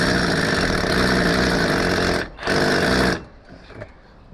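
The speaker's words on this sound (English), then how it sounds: "we go back through with a big drill bit" A loud, steady power drill with a big bit grinds continuously for about three seconds, stops briefly, runs again, then cuts out leaving quieter rattling.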